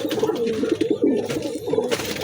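Pigeons coo steadily while sitting on eggs in a loft, with low rolling calls repeating close by, continuous over the whole stretch.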